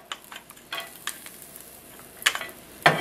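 Garlic stir-frying in a pan for a beef and broccoli dish: a soft, steady sizzle broken by several sharp scrapes and stirs, the loudest coming near the end.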